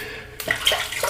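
After a short quiet moment, water splashes onto a face with a few close, uneven wet slaps and trickles before soap lathering.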